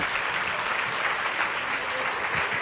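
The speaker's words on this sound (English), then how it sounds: "you are going to give Miss Tina a huge round of applause as she exits." A live audience at an onstage conversation event gives a round of applause as the guest leaves, a brief, dense, even burst of clapping heard from within the crowd.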